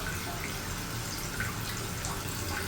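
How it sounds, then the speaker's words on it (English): A toilet tank refills after a flush in a home bathroom, a steady hiss of running water with faint trickling and splashing, close by and continuous throughout. "So that's filling the toilet inside."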